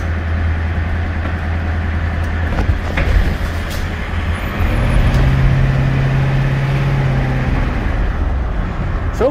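Ford 7.3 IDI diesel truck cruising onto a highway, a steady droning engine and road roar heard from inside the cab, with a low engine tone that shifts pitch partway through.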